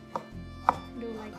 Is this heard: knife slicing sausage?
yes